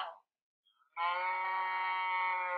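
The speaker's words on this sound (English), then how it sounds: "Now I move to the next letter. C for cow." A cow call plays from an augmented reality animal app, a sustained bleating low moo lasting about a second and a half after a brief snippet of a voice.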